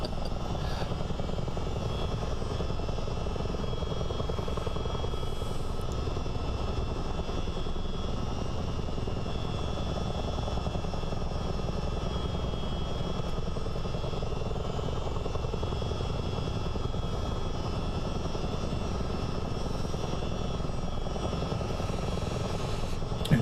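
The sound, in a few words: Chinook CH-47 helicopter flight in Microsoft Flight Simulator, video game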